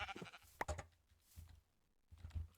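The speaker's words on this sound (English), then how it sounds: "All right, are there any more sheep?" Minecraft sheep bleating in a video game, several short bleats spread across the moment, fairly close and clear with quiet gaps between, no talking.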